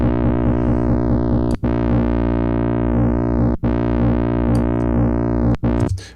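An FM8 synthesizer holds a buzzy, distorted tone with a steady rhythmic wobble, loud and continuous, broken by a few brief gaps between notes.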